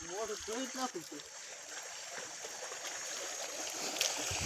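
Water from a full dam spills over its top in a steady, continuous rush, heard from nearby, with a voice talking briefly at the start.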